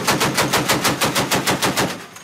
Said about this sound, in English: All guns blazing, the Spanish Navy practice repelling an assault on their ship